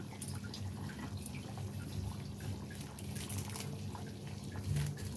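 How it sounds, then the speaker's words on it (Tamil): Soft bubbling and popping from a simmering pot of mutton curry, small irregular blips over a low steady hum, quiet and close. "நல்லா கொதிக்குது"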